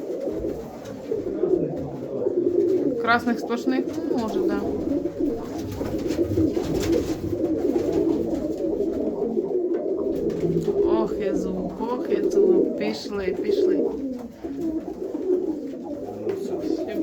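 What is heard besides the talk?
pigeons cooing in a breeder's loft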